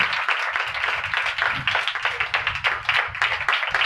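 Congregation at a church service clapping loudly together, a dense, steady wash of many hands with rhythmic accents throughout, no speech over it.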